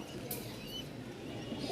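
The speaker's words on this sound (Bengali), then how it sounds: "নরের একটু ডাকটা দেখাই" A green-coloured male Rajshahi-breed pigeon gives a faint, soft coo against a quiet background hiss, heard alone without talk.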